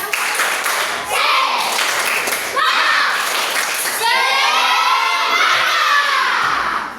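Schoolchildren in a classroom perform a rhythmic 'tepuk semangat' clap routine led by their teacher, bursts of patterned clapping mixed with loud chanting and shouting voices, continuing steadily throughout.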